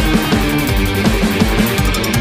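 Drumsticks play a steady sixteenth-note pattern grouped in twos, a dense run of regular strokes with recurring accents, loud and close, with no talking.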